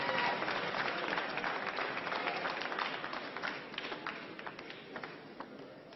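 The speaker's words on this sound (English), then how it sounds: "the crowd going mad every time Gavin wins a point" Crowd applauding a won point at a table tennis world championship match, dense sustained clapping and cheering from a large audience that gradually thins out.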